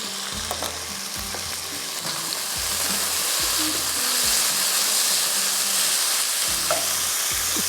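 Shrimp fry over high heat in a pan, a loud, steady sizzle with repeated stirring knocks and scrapes throughout, close and continuous with no talking.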